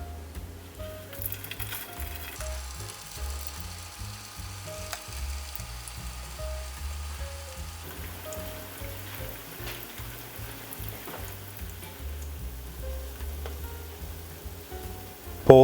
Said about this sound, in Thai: ใส่โมจิลงไปทอด